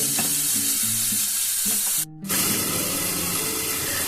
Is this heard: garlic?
yes